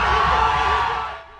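A large crowd at a cycling race in Harrisonburg roars and cheers loudly and steadily, then fades slightly at the end.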